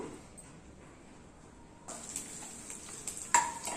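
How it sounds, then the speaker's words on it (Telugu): Crushed garlic cloves frying in hot oil for an Andhra-style cucumber dal, a faint sizzle that grows louder halfway through, with a few light clinks of utensils near the end. "వెల్లుల్లిపాయలు కాస్త ఫ్రై అవుతుంది"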